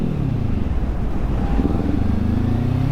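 A motorcycle coasts with the clutch pulled in, its engine settling into a low, steady idling rumble beneath road and wind noise, close and without talk.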